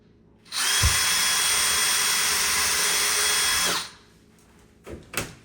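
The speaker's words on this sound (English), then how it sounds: "Drill the holes." A power drill whirs loudly and steadily for about three seconds drilling holes for a corner shower door frame, then spins down, followed by a couple of short clunks.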